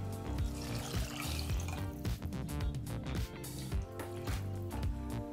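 Water is poured into a pot of tomato rice masala, a splashing stream with clattering, ringing kitchen sounds at close range, no talk.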